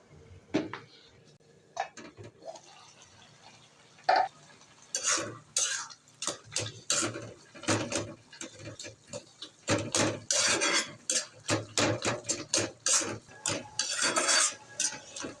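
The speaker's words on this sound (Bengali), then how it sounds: "এখন আমি একটু নেড়ে চেড়ে আবারও ঢেকে দেব।" Red amaranth greens are stirred in a pot with a utensil before the lid goes back on: a run of close clinks and scrapes, sparse at first, then quickening into rapid irregular clatter.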